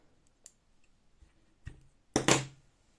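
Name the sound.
scissors snipping crochet thread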